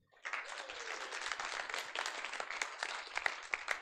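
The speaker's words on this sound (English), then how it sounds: "give her a round of applause." Lively applause at a diversity conference, with many hands clapping close and fairly strongly in a dense, steady patter that starts abruptly and carries on to the end without voices.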